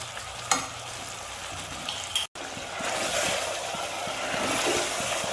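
Goat stew ingredients with tomato and yogurt fry and sizzle steadily in a pot, with a brief stirring clatter near the start and a short cut partway through, the frying growing fuller afterward.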